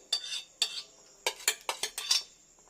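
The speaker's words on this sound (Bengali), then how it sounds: "এবার একটু আমি এরকম চারিদিকে চামচের সাহায্যে একটু ছড়িয়ে দিলাম।" A metal spoon scrapes and taps around a pan as egg and puffed rice are spread over low-to-medium heat, in about eight short distinct strokes, close and fairly quiet.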